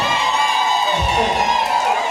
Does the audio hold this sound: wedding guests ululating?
yes